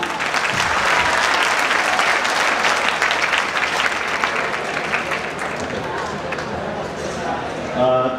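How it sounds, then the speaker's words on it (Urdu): The audience at a mushaira poetry gathering in Deoband breaks into loud, dense applause that holds steady for several seconds before thinning slightly, with a short sharp noise at the very end. "محترم انور جلال پوری تالیوں کے ساتھ"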